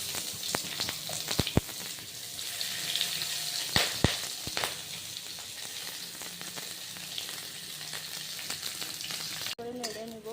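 Chopped onion sizzling in hot oil with bay leaf and ground cumin, a steady bright frying hiss broken by sharp clanks and scrapes of stirring in the pan.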